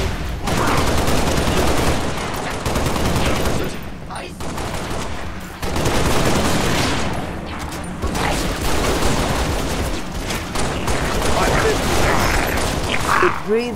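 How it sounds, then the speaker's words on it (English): Heavy suppressing gunfire in the Halo Reach video game, dense bursts of automatic fire and booms nearly continuous across the stretch with brief lulls, loud and close, with a voice speaking over it. "Suppressing fire."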